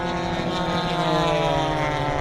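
A P-51D Mustang propeller plane roars steadily overhead at around 200 mph, a loud, sustained engine drone with no talking.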